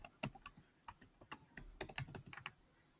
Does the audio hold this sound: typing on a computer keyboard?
yes